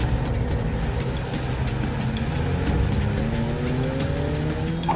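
A car speeds through a chase, its engine droning loud and steady while tires squeal in rising, sliding tones, all close and continuous with no talk.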